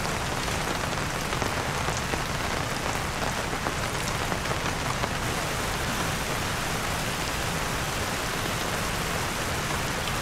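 Steady, dense rain falls at a solo motorcycle campsite beside a Royal Enfield GT 650, a loud, continuous hiss of drops striking surfaces with no voices over it.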